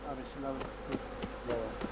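Honeybees at a hive hum in a continuous low buzz, close by, with a few soft taps and rustles punctuating the drone.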